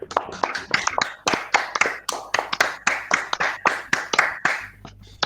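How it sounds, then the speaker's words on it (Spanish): Hand clapping at a 2021 seminar closing: a dozen or so sharp, fairly evenly spaced claps, close and moderately loud, from a small number of hands, with no voices. "un aplauso virtual."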